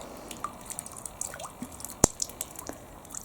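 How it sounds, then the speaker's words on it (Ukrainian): Water drips and splashes from snow melting off a roof eave while snow keeps falling, with soft scattered drops over a wet background wash and one sharp, louder splat near the middle. "Тут водичка тече, капає. Ви чуєте, напевно, що хлюпає."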